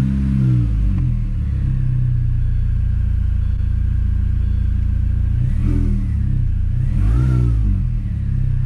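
An R53 Mini Cooper engine idles with a deep rumble after its throttle body is replaced, then revs sharply twice near the end, each rise and fall loud and close.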